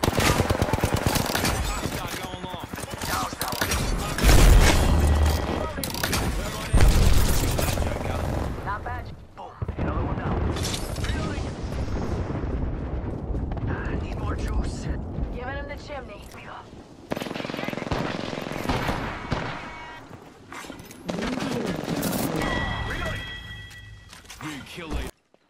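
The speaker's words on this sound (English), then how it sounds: "They're shooting at me. Taking fire!" Bursts of rapid automatic gunfire and sharp single shots in Apex Legends crackle in dense clusters, loud and close at times, with brief gaps and sudden pauses, while players talk over the fighting.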